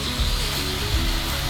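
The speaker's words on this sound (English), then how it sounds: "Running this auger through this hose" A grain auger running through a hose on a farm, a brief steady mechanical rumbling whir with grainy rubbing texture, close and continuous.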